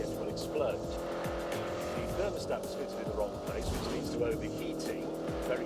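Car engine in The Grand Tour Game, a steady low growl and revving drone with tire noise, heard under a voice talking throughout.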